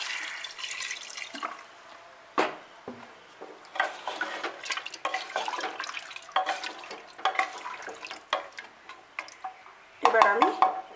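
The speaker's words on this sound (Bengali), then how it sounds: "এর মধ্যে পরিমাণ মতো জল দিয়ে দিলাম।" Water is poured into a pressure cooker of mutton nihari, with splashing and dripping alongside a metal utensil clinking against the pot in short, uneven bursts.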